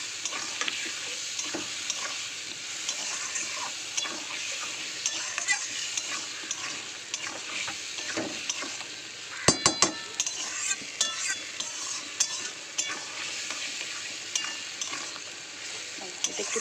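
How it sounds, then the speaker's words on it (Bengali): Onion and tomato paste with turmeric and chili powder fry in a pan, giving a steady close sizzle with the frequent scrape and clink of a stirring utensil and a brief clatter partway through. "পেঁয়াজ আর টমেটো পেস্টটা দিয়ে দিলাম। দিয়ে দেবো হলুদ গুঁড়ো আর দেবো লঙ্কার গুঁড়ো।"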